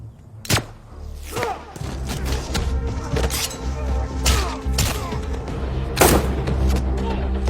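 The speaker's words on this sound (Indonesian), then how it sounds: "sementara yang berhasil menghindar lanjut adu tembak dengan O'Brien dan Bobley" Gunfire in a film shootout scene, with sharp broadband shots at irregular intervals over a steady, dense background of action-scene sound effects and music, loud throughout.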